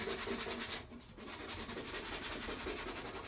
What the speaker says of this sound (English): we're in the process of sanding down all of the bits of paint that have rust on them